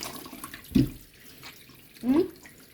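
A kitchen tap runs with a soft, steady splash of water, fairly faint, with a couple of brief louder gushes or voice sounds over it.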